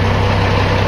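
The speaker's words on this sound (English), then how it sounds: "Cat engine, ready to go." A blue truck with a Caterpillar diesel engine idles close by with a steady, deep, throbbing rumble that runs unbroken through the whole short stretch.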